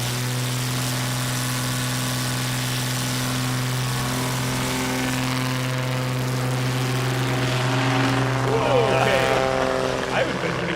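A STOL aircraft's piston engine droning steadily at full power on takeoff at the Music City STOL competition in Gallatin, Tennessee, a loud continuous hum with shifting overtones as the plane passes.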